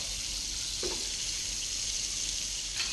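Steady, loud sizzling of beef steak frying in a hot pan, a continuous crackling hiss with a brief soft clunk partway through.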